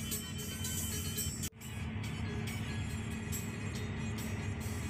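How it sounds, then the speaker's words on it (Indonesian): Buses racing side by side on a toll road, a JRG bus and a 1 Nusa bus, heard from inside as a steady faint rumble of engine and road noise with one brief dip. "sempat terjadi kejar-kejaran antara bus JRG yang saya naiki ini dengan bus 1 Nusa"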